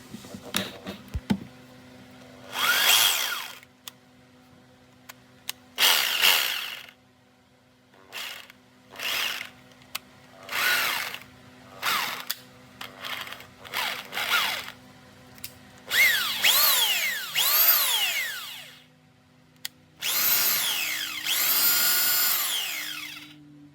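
Bosch Bulldog Xtreme hammer drill with a newly replaced cord, run in a series of short trigger bursts that grow longer toward the end, each whirring up and winding down, loud and close with no talking.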